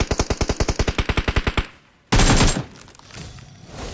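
Rapid automatic rifle fire in a shooting video game with AKM and M416 rifles, a fast even burst of about twenty loud shots, a brief pause, then a heavy blast that trails off.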